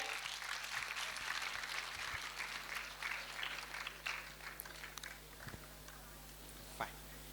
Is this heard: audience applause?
yes